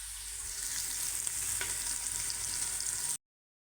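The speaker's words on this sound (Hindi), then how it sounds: "ये प्याज फ्राई हो रहा है" Onion sizzling and frying in a pan at home, a steady, close, loud crackling hiss running evenly for about three seconds before cutting off abruptly.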